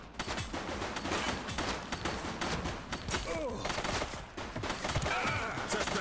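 A suspect opens fire during a police chase in The Precinct, a crime game, producing a fast, fairly quiet volley of gunshots mixed with other game noise and faint speech.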